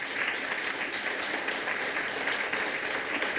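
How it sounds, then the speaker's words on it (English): An audience at a talk by an institute director in Bratislava applauds, a steady, even patter of many hands throughout, moderately distant. "You can make it an applause."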